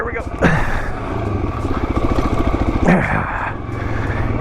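A Suzuki DRZ400 dirt bike rides a trail, its single-cylinder engine chugging close and loud with a steady low pulse, revving up briefly twice as the throttle opens.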